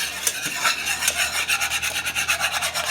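Apple cider vinaigrette is stirred in a warm pan, a close, continuous scraping rasp that pulses with each stroke of the utensil, with no talking.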